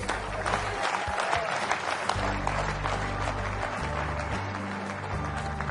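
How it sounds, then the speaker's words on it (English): An audience at a leadership talk applauds loudly, a dense sustained wash of many hands clapping over a low musical hum, continuous and even throughout. "Clap loud."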